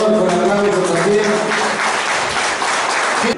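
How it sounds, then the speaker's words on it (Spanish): Applause from the audience at a chamamé music program, sustained broadband clapping over about three seconds with some tonal music or voice underneath early on, ending abruptly. "para el amigo Cancino Adolfo, el aplauso también"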